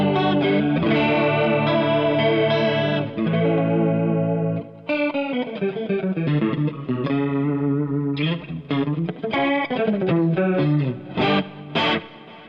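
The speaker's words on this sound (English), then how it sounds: "the actual chorus is changing when I actually move over to my stereo 2 mode" Electric guitar run through a vintage BOSS chorus pedal set to stereo mode 2, sustained chords and picked notes shimmering with a wide, wavering modulation, loud and close, with no talking.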